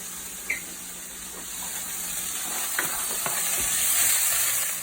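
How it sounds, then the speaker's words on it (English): Chopped onion and garlic sauté in a pan with a soft, steady sizzle, broken by a few light scrapes and clicks of stirring. A broad hiss rises a little toward the end, and no one speaks. "Pour your onion in there, as well as your chopped garlic. Make sure that's all nice. And you're going to want to saute this until it's translucent."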